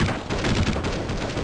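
Glock pistol gunfire in the shooting game Counter-Strike, a dense, loud burst of rapid overlapping shots that fills the whole moment, heard alone without voices.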